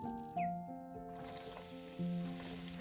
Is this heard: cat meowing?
no